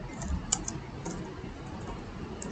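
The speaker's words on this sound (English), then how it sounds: "I am typing address plus" Fast, light clicking of computer keyboard keys while typing Java code, a quick run of close taps with a few sharper strokes over faint room noise.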